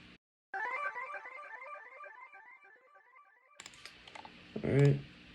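Repeating synth notes from a Serum patch, run through Valhalla Supermassive delay, trill in a steady stepping pattern with echoing tails, then break into a denser, louder burst of mixed sound near the end.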